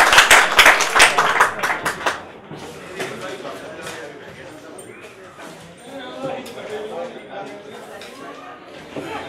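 An audience at a Punjabi poetry gathering breaks into a short burst of clapping that quickly fades into murmuring crowd chatter and talk.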